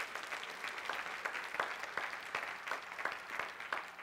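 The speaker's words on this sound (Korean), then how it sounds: "박수 한번 좀 주시기 바랍니다." A church congregation applauds with steady, moderately distant clapping that stays fairly even throughout, with individual claps standing out now and then.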